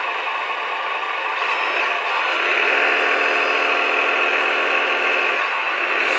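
The small motor of a 1/16-scale RC articulated dump truck hums and whirs steadily at idle, with a faint mechanical clatter riding on the drone and no voices.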